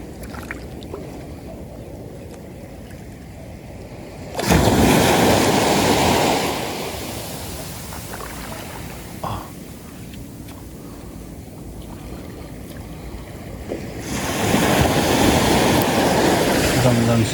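A pump boat on open water, its motor and rushing spray swelling loudly twice over a steady churn of waves, with people talking at moments in between.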